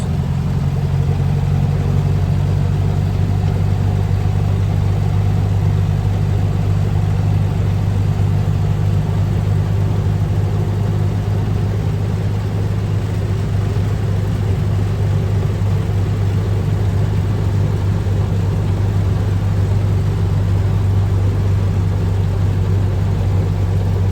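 A 1920 Garford truck engine runs steadily while driving, a loud, constant low rumble and drone with no pauses and no talk over it.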